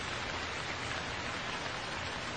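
Steady rain falls evenly with no break, a dense hiss used as a sound effect in a comedy skit.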